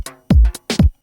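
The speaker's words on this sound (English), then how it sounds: "So I have a low kick, followed by a transient kick." Layered kick drum samples, a deep low kick stacked with a sharper transient kick, sounding as heavy booming hits in a 90s house style, with four punchy thumps in quick pairs, loud and dry with no talking.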